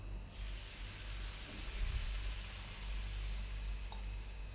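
Water poured into a hot pan of sautéed vegetables while cooking rava kichadi, giving a steady broad sizzle that swells briefly midway and continues throughout, with no talking.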